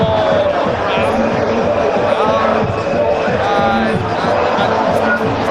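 Dense crowd of people at the CDC Million Man Rally, a steady loud hubbub of overlapping voices and murmuring filling the whole scene without pause, with occasional clearer shouts rising above the mass.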